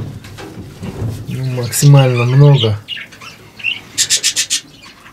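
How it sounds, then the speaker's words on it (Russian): Budgerigars squawk and chirp in a farm aviary in Irkutsk region, Siberia, with short bursts of sharp chirps near the end while someone speaks close by over the birds. "Вот здесь у меня 25 пар попугаев, 50 штук взрослых"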